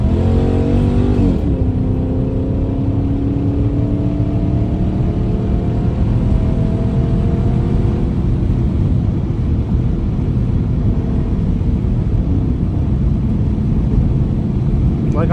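A Dodge Magnum SRT8 engine revs loudly and pulls hard, its tone climbing through the gears with a shift early on and steady roaring acceleration after.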